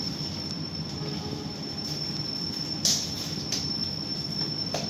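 The Cakrabuana train pulls into Cikampek station with a sustained high metallic wheel squeal over rumbling rolling noise and a sharp screech near the middle.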